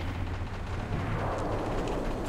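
An explosion from a bomb in Halo 3 Big Team Assault on the Avalanche map: a loud, dense, rumbling roar that stays steady for the whole stretch, with gunfire-like crackle mixed in.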